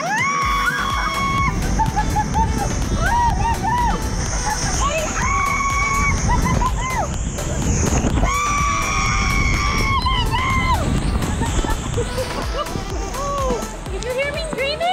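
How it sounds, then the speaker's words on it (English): A person screams loudly and repeatedly while rushing down a water slide on a family vacation, with long rising and falling shrieks over constant splashing, rushing water and background voices. "Did you hear me screaming?"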